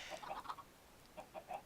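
Minecraft chickens pecking at the ground in the video game, soft clucking pops in two short clusters separated by a brief pause, faint and close.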